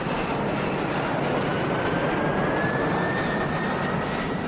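Airplane engines in the Eurofly flight simulator game roar in a steady, loud, continuous drone with a faint rising whine, close and unbroken with no talking.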